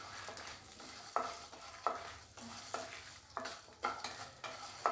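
Small shallots and garlic sautéing in a pan for a Tamil karpooravalli remedy recipe: a soft, steady sizzle with periodic scraping stirs of a spoon, close and fairly quiet, no talking.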